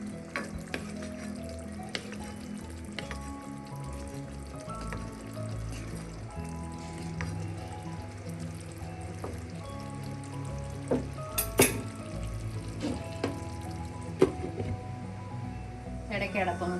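Egg curry simmers covered over a low flame, giving a soft, continuous bubbling and hiss, with occasional faint clinks and a low background hum throughout.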